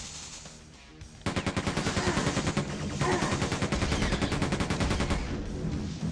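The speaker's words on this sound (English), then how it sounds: "we're gonna go with the SMG for a bit" Rapid automatic SMG fire from the Quake 2 video game, a dense loud rattle of shots that kicks in after a brief quieter lead-in and sustains to the end.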